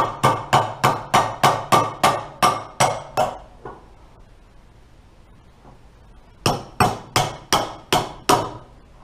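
A hammer taps down the bearing on a Toro snowblower impeller, striking metal in a quick, steady run of ringing blows, then a pause, then another burst of taps.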